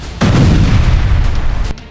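Bombing explosions in Gaza during an Israeli air strike on a refugee camp, a loud sustained blast roar rising abruptly and rumbling for over a second before cutting off, with no voices.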